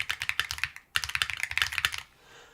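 Mechanical keyboard with a swapped spacebar being typed on in quick bursts, crisp close clacks in a fast uneven rhythm, a brief pause near the middle, then trailing off into quiet.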